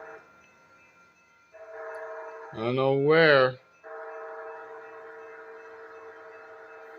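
CSX freight train passing with a loud, close air horn blast of two overlapping tones, set against the sustained rumble and whine of the locomotive, with a brief voice heard early on.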